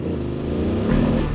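A motorcycle on a dark, unfamiliar road at night revs steadily as it labours to climb, its engine drone holding near and loud before rising in pitch and strain toward the end, with no talk over it.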